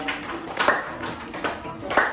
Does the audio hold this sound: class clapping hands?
yes